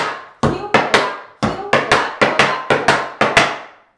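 Tap shoes strike a hard floor in crisp flaps and flap heels, about a dozen sharp, close metallic clacks in quick uneven pairs and groups, each ringing briefly before the next.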